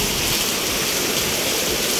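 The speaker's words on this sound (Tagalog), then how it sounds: "Stuck in the middle of the rain kasi po grabe talaga yung ulan" Heavy rain pours at night beneath a church, a dense, loud, continuous roar of water that fills the whole clip with no break.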